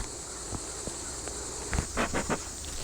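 Honey bees at the entrance of a strong single-deep beehive, a faint steady high buzzing with a few soft taps and flickers of nearby wingbeats.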